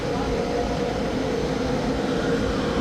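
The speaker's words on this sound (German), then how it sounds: "Und so sieht unser Zug am Stuttgarter Hauptbahnhof aus." Night train standing at Stuttgart main station, a steady low rumble and broadband hum of rail equipment filling the platform, constant and fairly loud throughout.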